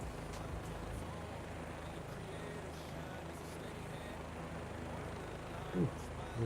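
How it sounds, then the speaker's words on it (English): A helicopter engine runs steadily in a flight simulator game, a continuous low rumbling drone that holds evenly throughout at moderate level, with a faint thump near the end. "I just can't figure out how to turn the damn helicopter off is the problem."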